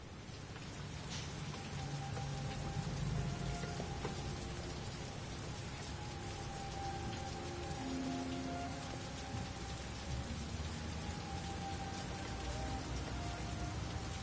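Steady rain falls in the PS4 game Heavy Rain, a constant dense patter on surfaces with faint low rumbles and a few tonal game sounds beneath, even and moderately quiet throughout.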